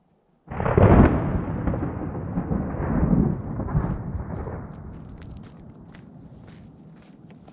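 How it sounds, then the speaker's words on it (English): Thunder rumbles loudly over steady rain drumming on a tent during a solo overnight camping trip, the roar easing into a softer patter of drops on the fabric. "It's raining outside,"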